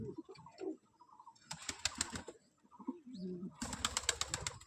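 Pigeons coo softly in a pigeon loft, low throaty calls repeating in short phrases, with sharp bursts of wing flapping or scuffling between them, close and fairly quiet.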